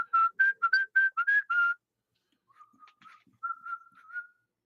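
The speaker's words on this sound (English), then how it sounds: "can you boys whistle like?" A person whistles a quick series of short, bright notes, pauses, then whistles softer, lower, wavering tones that trail off.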